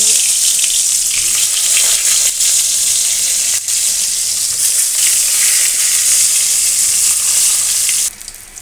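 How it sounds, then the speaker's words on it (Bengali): Pointed gourd (potol) frying in a pan: a loud, dense hiss of sizzling oil holding steady for several seconds, with faint scrapes, then dropping off sharply near the end. "এখন পটল ভাজি করব"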